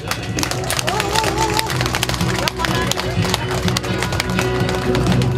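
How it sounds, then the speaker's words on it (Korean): Alumni at an elementary school reunion general meeting clap in a dense burst of applause, sharp uneven claps close by over a loud room with voices and background music. "우리 경리에 큰 박수를 한번 보내주시기 바랍니다"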